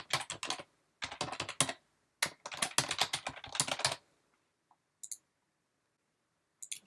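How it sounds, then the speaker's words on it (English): A password is tapped out on a computer keyboard in quick bursts of crisp, close key clicks, separated by short silences, with a couple of isolated clicks near the end and no talking. "Of course, input the password."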